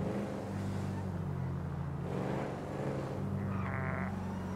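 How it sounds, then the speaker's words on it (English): A stolen car drives in a video game, its engine droning steadily and fairly loud throughout, with a brief higher whine near the end. "You're driving a stolen car"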